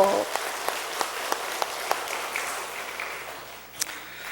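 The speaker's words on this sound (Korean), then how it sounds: "힘차게 박수합니다." A church congregation applauds during a Sunday worship service, a dense wash of clapping with a few sharper claps standing out before it thins near the end.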